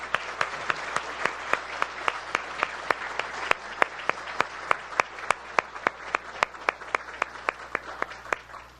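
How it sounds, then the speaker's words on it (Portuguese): Audience applauding arriving university doctoral students at an inaugural lecture for an agroecology graduate program, heard as a steady run of distinct, evenly spaced claps, a fairly small group, with no voices over it. "uma salva de palmas para vocês"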